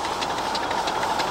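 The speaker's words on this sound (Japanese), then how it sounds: "どうです？ デゴイチのこの力強い走り。" A D51 steam locomotive runs along the track with a steady, loud rumbling chug and rhythmic puffs, heard up close with no voices.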